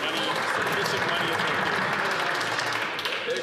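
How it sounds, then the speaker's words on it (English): Applause in a parliamentary chamber during Question Period, dense sustained clapping from many members at an even level, with voices murmuring underneath. "Big round of applause there."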